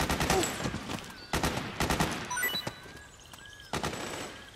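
Bursts of automatic suppressing gunfire in Metal Gear Solid 4, loud rapid volleys repeating in several clusters with brief gaps, sharp and close with battlefield noise between.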